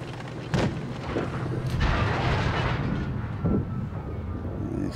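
Tank cannon fire in World of Tanks Blitz, a few heavy booming shots with rumbling tails amid continuous battle noise, fairly loud and not far off.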